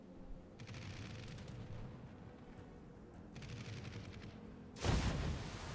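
Aerial bombs exploding in World of Warships, with distant rumbling booms underneath steady naval battle noise and a louder, heavier blast near the end.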